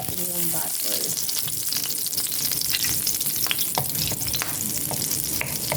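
Butter sizzles and fries with cooking oil in a pan. A dense, continuous crackle fills the whole stretch, broken by the scrapes and knocks of stirring.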